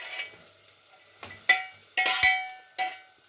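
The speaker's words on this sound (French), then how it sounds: "je verse les carottes" Carrots tipped into a frying pan over translucent onions give several short bursts of sizzling and clattering as they land, separated by quiet gaps.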